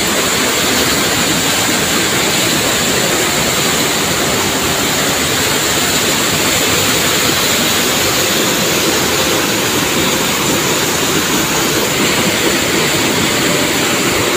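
The Bogowonto river flows past a riverside hamlet, its water a loud, steady rushing roar heard up close with no break and no voices.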